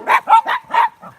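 A dog barks four times in quick succession, close and moderately loud, ending with a softer yip.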